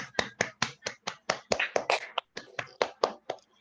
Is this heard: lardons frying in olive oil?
no